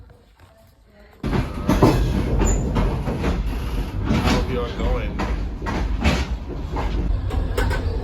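A steady rumbling overnight sleeper train ride in Ukraine with rattling carriage noise and rhythmic clatter starting suddenly and continuing throughout, with a brief spoken remark over it.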